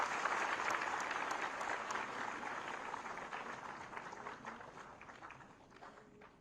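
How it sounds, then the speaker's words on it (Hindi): A crowd claps continuously at a ceremony handing out appointment letters to lecturers and assistant teachers, the applause fairly distant and soft, gradually thinning and fading. "आपकी तालियां बजती रहनी चाहिए"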